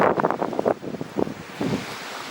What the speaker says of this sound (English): It's very windy outside, so you probably won't be able to hear me